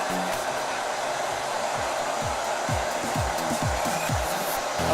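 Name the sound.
JMW hair dryer drying hair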